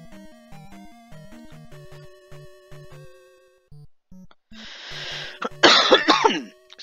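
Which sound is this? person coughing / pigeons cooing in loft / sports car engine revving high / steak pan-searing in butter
person coughing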